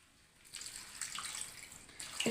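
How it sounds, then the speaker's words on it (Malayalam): Water poured into a pan of onions, green chillies, garlic, ginger and curry leaves for a tomato curry: a soft, steady rushing pour that swells and continues for a couple of seconds, close by with no talking. "കുറച്ച് വെള്ളം ഒഴിക്കുക"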